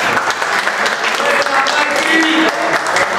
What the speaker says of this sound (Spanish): Un aplauso para el señor Mikey, por